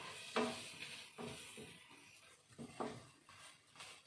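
Spices sautéing in a pan for a potato fry give a faint, soft sizzle punctuated by several scraping, clinking stirs of a utensil against the pan, irregular and close.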